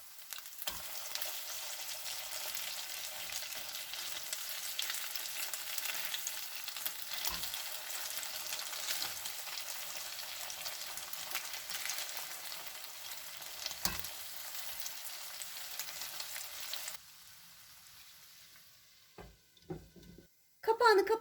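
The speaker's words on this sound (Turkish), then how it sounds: "İki dakika kadar kızarttıktan sonra diğer yüzlerini çevirelim" Chicken pieces and potatoes sizzle and fry steadily in a pan, a continuous bright crackle that runs loud and close, then drops away near the end into a few clinks and handling sounds.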